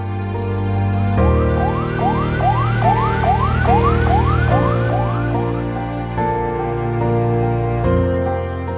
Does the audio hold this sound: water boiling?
no